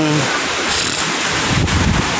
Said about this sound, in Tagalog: alon dahil sa hangin